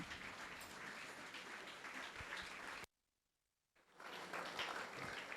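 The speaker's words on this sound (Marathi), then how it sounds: "आपण सर्वजण जागेवरती उभे राहूया आणि प्रभूच्या सेवकाचं टाळ्या वाजवून स्वागत करूया." An indoor church audience claps to welcome a preacher, a dense, fairly faint wash of applause that cuts out briefly in the middle and then resumes.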